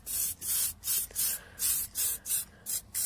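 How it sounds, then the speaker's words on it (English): An aerosol can of grey Tamiya surface primer sprays over a Hot Wheels Porsche Carrera casting in short, even hissing bursts, about nine close puffs in quick rhythm with brief gaps between. "I'm about to use the grey Tamiya surface primer."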